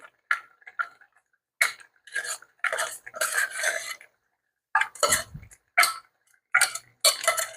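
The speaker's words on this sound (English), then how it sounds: "Now I'm going to add in the tuna. Just going to break it up a little bit." A utensil breaks up canned tuna in a pot of boiling water, giving a series of close, separate metallic scrapes, taps and clinks in irregular bursts with short silent gaps between them.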